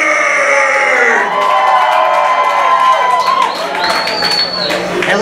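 A festival crowd at The Heavyweights 2015 cheers and whoops for a band, a loud, steady roar with scattered shouts and whistles, and an amplified voice over the top early on.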